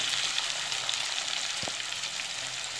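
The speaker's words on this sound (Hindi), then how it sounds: "इसमें मैं टमाटर डालूंगी। टमाटर में थोड़ा सा पकाएंगे" Onions and tomatoes cook in a pan for black chickpea chaat, giving a soft, steady sizzle with one brief low knock midway.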